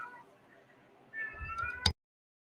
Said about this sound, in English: Listen to my cat, y'all.